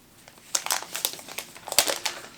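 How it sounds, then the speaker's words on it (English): Protective plastic film crinkles and crackles as it is peeled off a new iPad Pro 11 in space gray, a quick series of close, sharp rustles with no talking. "Peeling the film is always so gratifying."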